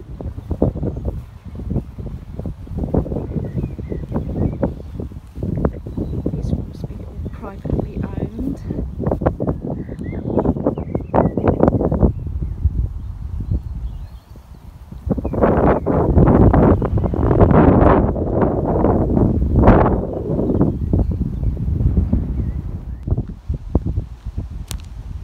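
Wind gusts buffet the microphone at a country park, a continuous low rumbling roar that surges and eases over the whole stretch, with people talking intermittently beneath it.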